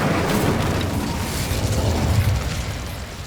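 An Incendio fire spell cast in the game Hogwarts Legacy gives a dense, loud, roaring whoosh with crackling texture, lasting throughout without pause.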